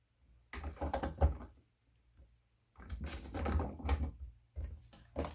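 Creative Memories Magic Trimmer slicing paper banner cuts, two bursts of close, soft scraping and clicking cutter strokes separated by quiet pauses, with a faint light tap near the end.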